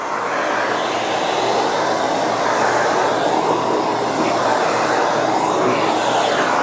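A Miele Guard S1 Parquet Flex vacuum cleaner runs at maximum suction on a hard floor, giving a loud, steady whooshing roar that holds without a break throughout.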